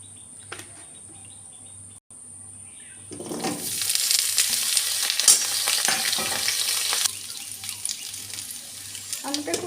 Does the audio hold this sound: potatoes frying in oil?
yes